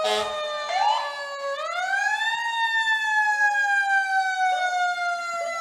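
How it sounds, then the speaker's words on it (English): Emergency vehicle sirens wail loudly and steadily at a town parade, their pitch sweeping up and then holding, with no voices over them. "And you're hearing sirens, but it's okay."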